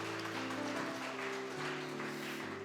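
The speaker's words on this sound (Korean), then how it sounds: "우리 박수로 환영하겠습니다" A church congregation claps to welcome newcomers during a Sunday service, a steady wash of applause held at an even level throughout, with sustained organ-like tones running beneath it.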